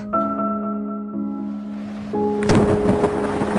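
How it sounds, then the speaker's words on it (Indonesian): Rain and thunder in an animated film scene, a broad rush of rain swelling into a loud rumbling thunder burst near the end, following a steady tonal hum in the first part. "Masa iya sih harus hujan?"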